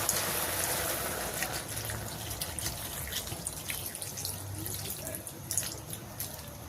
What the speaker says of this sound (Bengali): আমি এখন জল দিয়ে দেবো, শাকটা কমে গেছে।